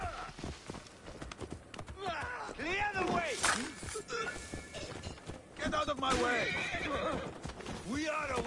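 Horses whinny and neigh repeatedly in the Assassin's Creed Origins video game, the calls rising and falling loudly over clip-clopping hooves and busy game noise, with a voice talking at times.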